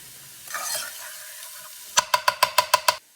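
Vegetables with garlic in a frying pan, stirred in a quick burst of about seven rhythmic scrapes and sizzles after a softer stretch of quiet cooking noise, close and fairly loud.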